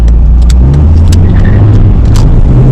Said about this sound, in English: Got some more tire chirp there for you.